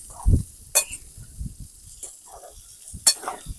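Boiled peanuts being stirred and tossed in a pan outdoors for a village-style sundal, with a few sharp scraping clatters and soft sizzling shuffles between quieter pauses, close by.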